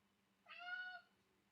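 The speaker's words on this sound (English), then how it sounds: "Cat, what are you doing?" A single short, clear meow from a cat indoors, faint and close, rising and falling over about half a second against a quiet room hum.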